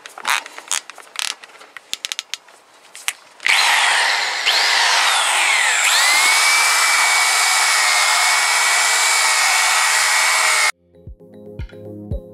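An old Makita power drill mixing plaster adhesive whirs loudly and steadily for several seconds, its pitch dipping briefly under load, after some scattered clattering and knocks; a few sharp taps follow.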